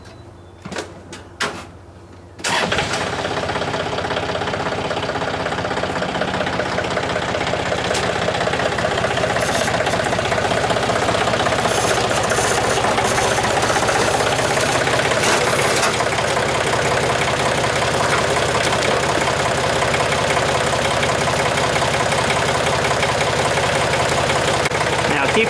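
A John Deere 2720 tractor engine drones steadily and loudly while driving, starting after a couple of brief knocks and continuing without a break.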